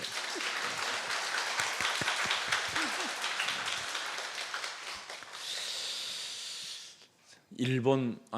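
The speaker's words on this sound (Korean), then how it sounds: "박수 한번 쳐줘 이런 때" A congregation at a Wednesday church service applauds, a dense wash of clapping for several seconds that gives way to a hissing hush, followed by a brief voice at the end.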